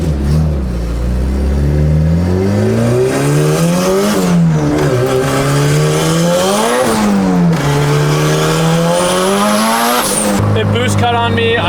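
A big-turbo Honda Civic pulls hard under boost, its engine note rising and falling through gear changes with loud, continuous revving and a brief tire chirp, a voice talking over the roar.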